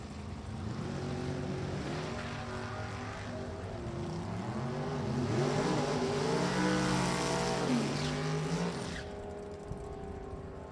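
Drag race launch at Virginia Motorsports Park pitting an AMC 598 cubic inch big block against a '57 Chevrolet: loud, sustained engine roar with rising and falling pitch sweeps, peaking midway then cutting off near the end.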